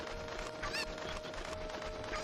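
Chicken clucking in the video game Ocarina of Time, a quick run of short squawking clucks over a steady background drone, lasting only a couple of seconds.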